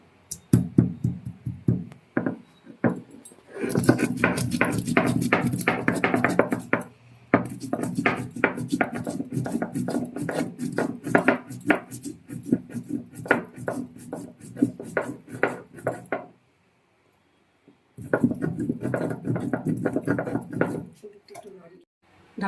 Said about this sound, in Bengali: পরিমাণ মতো গরম মশলা নিয়েছি এবার বেটে নেবো